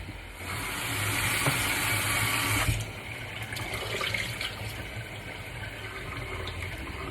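Tap water runs steadily into a sink while cut vegetables are washed, a close continuous splashing rush that softens after a few seconds.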